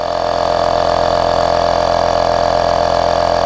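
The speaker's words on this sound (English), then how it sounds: "it's not the fastest pump, but it seems to work pretty well" A cordless tyre inflator pump runs continuously at close range, its loud, steady motor drone and rapid pulsing compressor beat holding without pause.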